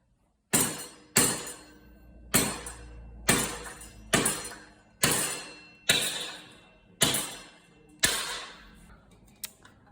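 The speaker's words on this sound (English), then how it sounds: "what you're gonna wanna do is to hit that bolt and try and get it out" Bolt being hammered out of a Cyrusher XF800 e-bike rear frame: eight sharp metallic strikes, evenly spaced about a second apart, each loud and close with a short ringing decay, no talk.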